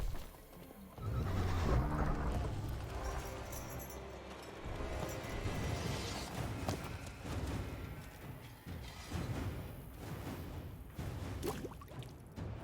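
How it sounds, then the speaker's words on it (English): A horse whinnies in The Witcher 3: Wild Hunt amid game sound effects and busy background noise, with hoof clatter and thuds, loud and continuous throughout. "we just yeeted that horse"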